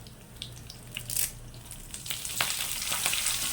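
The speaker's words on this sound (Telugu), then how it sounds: "ఇదే మూకుట్లో కొంచెం ఆయిల్ పోసుకొని మనం పల్లీ చట్నీని తాలింపు వేసుకోవాలి" A tempering of mustard seeds, cumin, dry red chillies and curry leaves frying in oil for peanut chutney, a close sizzle with sharp spits and crackles that grows busier toward the end, with no talk.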